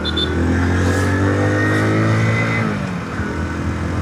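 A 2026 Hero HF Deluxe flex-fuel motorcycle with a 97.2cc engine running on E85 revs up under load as it is ridden, its engine note climbing and then dropping back as it shifts gears, loud and close, with no talking.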